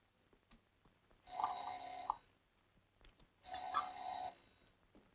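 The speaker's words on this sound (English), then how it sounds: "That bell. Every time it rings, I almost jump out of my skin." A doorbell rings twice in a quiet room, two sustained electric bell bursts of about a second each, separated by a short pause, with faint shuffling between them.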